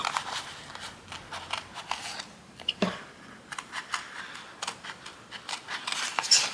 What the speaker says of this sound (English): So you just cut your fussy cut out.